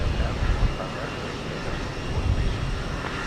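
A United Express jet cleared for takeoff from runway 15 left roars with a broad, steady engine rumble. The aircraft is at a distance at a busy airport.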